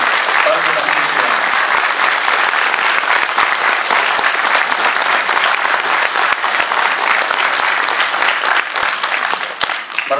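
A live audience at a Passion play gives the actors a dense, loud, sustained round of applause that continues evenly with only a slight fade at the end.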